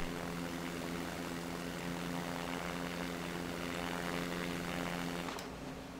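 Steady propeller drone of a small plane pushing forward in SimplePlanes, a continuous buzzing engine tone holding level for the whole stretch with no voices.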